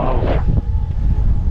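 Strong, gusty wind roars across the microphone at a hilltop viewpoint in Ilaveezhapoonchira, a loud, continuous rushing with no voices.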